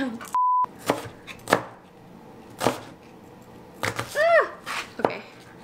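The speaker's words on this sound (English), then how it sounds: "How do you peel a garlic?" Garlic cloves are handled and chopped on a board in a home kitchen, with a series of sharp knife chops and scraping taps at an irregular rhythm, a short electronic beep near the start, and no one talking.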